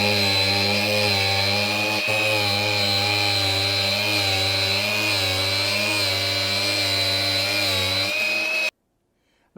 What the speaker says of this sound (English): going to cut this with a 4-inch cutoff wheel just because it's kind of easy to get a nice straight edge